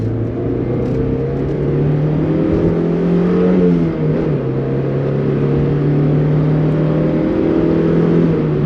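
A 1992 Mazda Miata's 1.6-liter inline-4 revs up and holds a steady, close, loud engine note, rising and falling through a couple of throttle blips.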